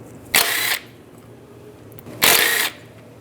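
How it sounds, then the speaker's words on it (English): Two short bursts of a powered hex socket spinning out pulley bolts on a 1998-2010 Volkswagen Beetle's power steering pump, each about half a second of whirring, close and loud, with quiet between. "Now we're gonna pull these bolts off of the pulley using a 6mm hex socket."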